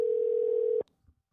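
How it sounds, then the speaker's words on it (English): A steady single-pitch telephone tone sounds loud and continuous for almost a second, then cuts off sharply, leaving near silence with a faint click or two. "It's ringing."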